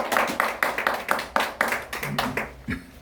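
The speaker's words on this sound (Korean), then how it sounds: "박수 한번 쳐주십시오." An audience claps in a rhythmic, unified beat of about ten evenly spaced claps at a Hangul Day lecture and poetry-recital performance in Korea, loud and close, with a brief low murmur near the end.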